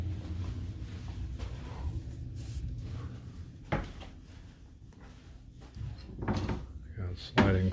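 Cabin drawers on a Disney Dream cruise ship are pulled open and pushed shut, with a few dull knocks and sliding thumps under steady room noise and a person talking nearby.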